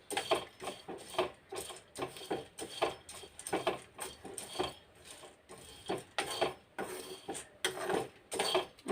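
Roasted gram (putnalu) being dry-roasted in a pan for a children's snack, giving a steady run of dense, rattling clicks and scrapes as the pieces are stirred, close and fairly quiet, with no talk.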